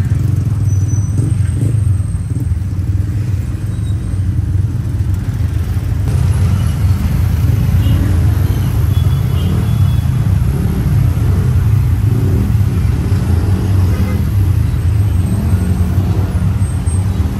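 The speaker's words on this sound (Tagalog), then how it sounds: "Traffic ng Antipolo, guys. Grabe, hindi ka makalusot. Tricycle, kotse." Congested road traffic with cars and tricycles in Antipolo City gives a loud, constant low engine drone, with vehicles idling and creeping along close by.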